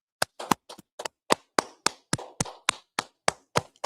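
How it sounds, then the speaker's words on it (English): A few people clap in a rough, uneven rhythm in a small room before a law and history class, about a dozen close, sharp claps with short gaps between them and no talk over them. "Let's clap it up."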